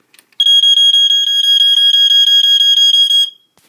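An Earli-Gard EGD-5S smoke detector under test gives a piercing, rapidly pulsing electronic alarm tone for about three seconds, close and loud, then stops abruptly.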